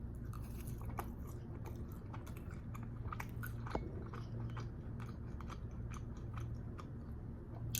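Close, soft chewing and squishy bites of Trader Joe's ube mochi pancakes, with irregular moist crunchy clicks repeating steadily over a low background hum.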